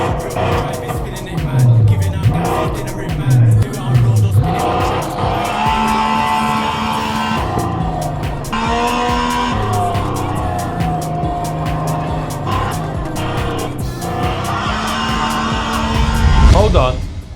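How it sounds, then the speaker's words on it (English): A Chinese-made car's engine revs up and down repeatedly, loud and close, with rising and falling pitch and occasional voices underneath. "Oh, listen to it rev up."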